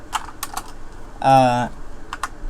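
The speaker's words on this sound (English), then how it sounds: "I'm bad at typing." Typing on a computer keyboard during a Blender beginner tutorial: scattered quick key clicks in small bursts, broken by a brief voice in the middle.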